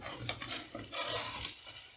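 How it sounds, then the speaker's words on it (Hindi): Sugar being stirred into buttered vermicelli (seviyan) in a pan on a low gas flame, with soft, quiet scraping and grainy rustling of a spoon through the noodles. "अब हम इसमें चीनी डालेंगे।"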